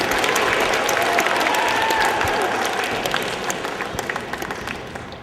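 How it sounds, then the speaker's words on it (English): Sustained audience applause from a comedy show crowd, dense clapping that stays loud for several seconds and then gradually fades toward the end. "Give them a round of applause."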